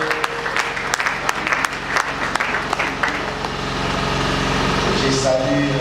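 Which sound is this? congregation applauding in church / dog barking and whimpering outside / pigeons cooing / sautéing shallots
congregation applauding in church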